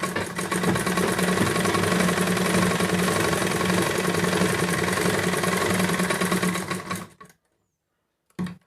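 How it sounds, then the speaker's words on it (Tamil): An electric sewing machine stitches the lining of a blouse, running fast and steadily with a dense mechanical whir for about seven seconds. It then stops, and a brief second burst of stitching follows. "இதை மாதிரி ஃபுல்லாக நீங்கள் வந்து ஸ்டிச் பண்ணிக்கோங்க."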